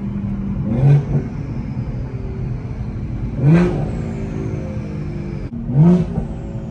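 A Stage 2+ BMW M240i turbo engine revving in three rising surges, each with a whistling turbo whine, close and fairly loud over a steady engine drone.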